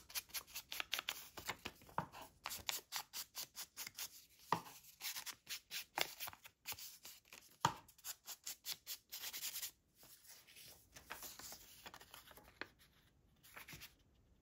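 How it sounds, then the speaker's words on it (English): Rapid, rhythmic rubbing strokes of an ink pad dabbed along the edges of cut paper pieces for crafting, continuous close scratchy patter with brief pauses, no voices. "I am going to just ink the edges."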